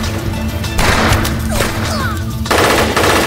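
Dense bursts of automatic gunfire in a film shootout scene around a limousine, loud, rapid and continuous, with crashing impacts layered through the volley.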